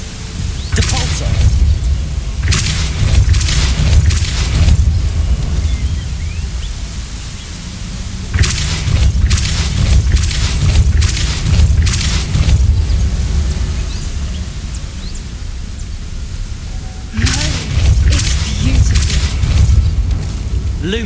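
A Depulso force spell cast in Hogwarts Legacy, heard as loud rushing blasts in three separate bursts over a constant low rumble.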